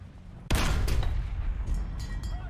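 Cannon gunfire from an A.C.IV tank battle in the War Thunder video game: one loud, close boom with a long rumbling tail, then fainter distant shots echoing through the battlefield noise.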